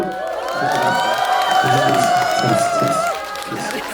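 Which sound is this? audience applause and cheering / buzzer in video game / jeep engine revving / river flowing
audience applause and cheering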